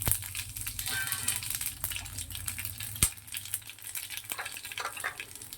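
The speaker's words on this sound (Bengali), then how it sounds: "এখানে দেখো সমস্ত গোটা মশলাগুলো দিয়ে দিচ্ছি তেলের মধ্যে।" Whole spices fry in hot oil for a spinach chicken curry, making a soft, fairly quiet sizzle with a few light clicks and one sharp knock near the middle, and no voices.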